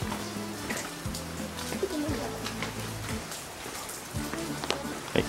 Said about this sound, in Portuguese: Mas tá chovendo aqui